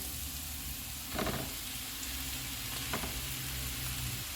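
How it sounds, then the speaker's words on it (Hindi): Ground spices and green chillies fry in a hot pan for an aloo sandwich filling, giving a steady close sizzle with a couple of brief stirring scrapes and no talk. "सारे मसाले डालेंगे। इनको 1 मिनट तक भूनेंगे।"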